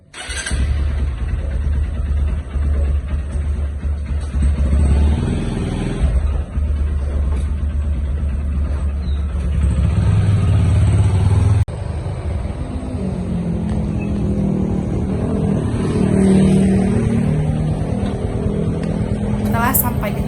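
A motorcycle rides along with a continuous rough engine drone and road noise that holds steady throughout, and the rumble shifts slightly partway through.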